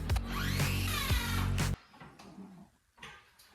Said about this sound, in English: It's not the most powerful saw in the stable